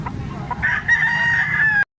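A rooster crows once, loud and close, its call rising into a long sustained note before cutting off abruptly.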